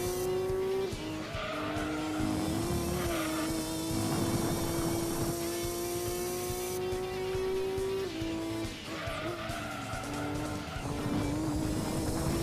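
A Lister race car in the Gran Turismo 2 video game laps Laguna Seca with a loud, continuous engine whine that rises and drops through gear changes, with bursts of tire squeal in the corners.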